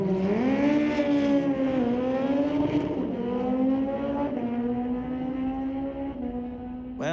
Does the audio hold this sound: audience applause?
no